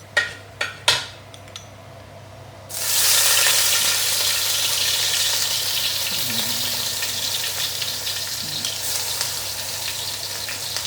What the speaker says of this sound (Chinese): 那虾米要洗好才蒸，还是直接这样？ 冲水就可以了。